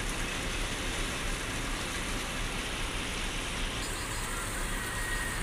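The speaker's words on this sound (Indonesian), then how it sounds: "cuma di terminal ini ada hujan" Rain pours steadily at a bus terminal, a dense broadband hiss that stays level throughout, with a faint engine rumble underneath.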